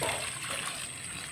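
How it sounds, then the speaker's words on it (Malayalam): Water is poured into a pan of Kerala-style chickpea curry, a brief, steady, faint splashing pour. "ഇനി നമുക്ക് വെള്ളം ചേർത്ത് കൊടുക്കാം"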